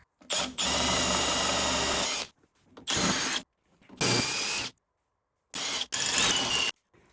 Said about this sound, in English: So I'm going to drill those rivets out